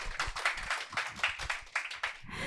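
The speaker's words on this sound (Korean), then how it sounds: "박수로 맞아주세요" Enthusiastic applause from a small group at a live seminar, a brisk patter of claps close by that lasts a couple of seconds.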